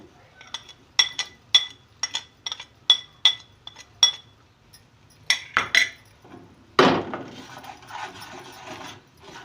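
Salt being mixed into cooked masala in a cooking pan for khattay aloo, heard as a run of sharp metallic spoon clinks against the pan, fairly close and rhythmic, followed by a louder scraping, stirring rustle.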